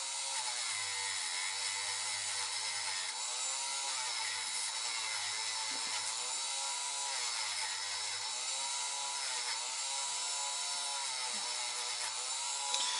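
Power tool drilling holes in and cutting metal parts during a build of an Iveco Hi-Way Abarth truck model, a steady high-pitched whine running throughout with low grinding pulses underneath, close and with no voices.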